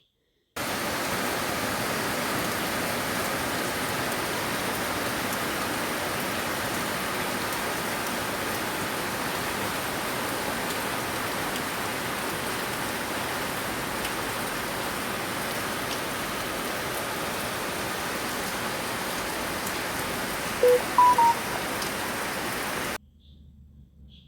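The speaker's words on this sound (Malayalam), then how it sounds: "ഇപ്പോൾ ഇതാ പുറത്ത് നല്ല മഴ നടക്കുകയാണ്" Heavy rain pours outside a house in a steady, dense hiss that holds evenly for over twenty seconds before cutting off abruptly, with no voices.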